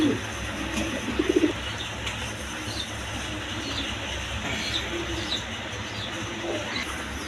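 Bombay and Lahori pigeons coo in short, soft bursts over a steady, noisy background, with a brief cluster of calls early on and fainter coos scattered after.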